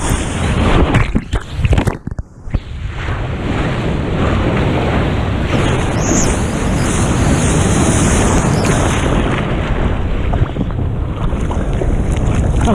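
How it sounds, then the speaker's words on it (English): Ocean surf from a Hurricane Florence swell at Vilano Beach, Florida, a loud steady roar of breaking waves mixed with heavy wind buffeting on the microphone that runs unbroken through the whole stretch. "but big enough that you can ride a mushy wave"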